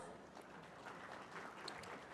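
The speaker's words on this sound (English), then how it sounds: "Huge round of applause." Applause from an audience at an automotive toolmaking industry panel event, a soft, continuous patter of clapping heard at a distance and fairly quiet throughout.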